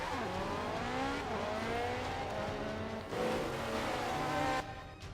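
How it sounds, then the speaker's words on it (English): Supercars race in Forza Motorsport 5, engines roaring steadily with rising and falling revs as gears shift, loud and continuous throughout, with a brief dip near the end. "That was just a little racing on the Forza Motorsport 5"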